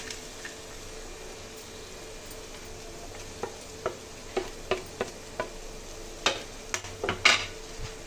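Carrot halwa with dry fruits being stirred in a pan, giving a series of soft scraping and tapping strokes that grow louder and quicker toward the end, with no talking.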